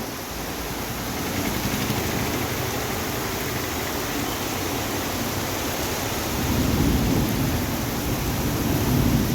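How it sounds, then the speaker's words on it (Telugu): Heavy rain in Visakhapatnam pours down in a dense, steady roar. Low rumbles of thunder swell beneath it, growing stronger toward the end. "విశాఖపట్నంలో భారీ వర్షం పడుతుంది"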